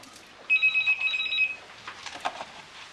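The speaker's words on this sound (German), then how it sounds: "Vielleicht geht mal jemand ans Telefon." A telephone rings in a 1999 crime drama scene, one bright electronic burst of trilling rings, close and clear, followed by quiet room sounds.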